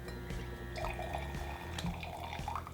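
Wine samples poured from a bottle trickle and splash softly into a glass, a quiet continuous liquid pour with faint drips, no voices.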